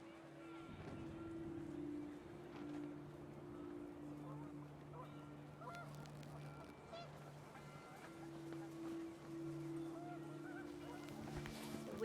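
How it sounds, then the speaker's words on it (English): Panicked geese honk repeatedly in the video game What Remains of Edith Finch, loud and sustained over gusting wind, with a voice talking over parts of it. "The wind picked up, and panicked geese appeared and quickly went."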